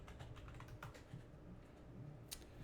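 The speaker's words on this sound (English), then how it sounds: "you can go and you can type in Hassan Nuke reaction" Fingers type on a computer keyboard in quick, faint, uneven clicks, with a slightly sharper tap near the end, close by and with no talking.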